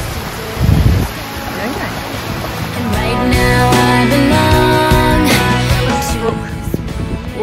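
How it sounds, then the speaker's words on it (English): Steady rushing of water from Ellis Brook Falls in Western Australia, a 60-foot waterfall, roaring continuously throughout while someone talks over it nearby. "Waterfalls, it's a 60-foot drop."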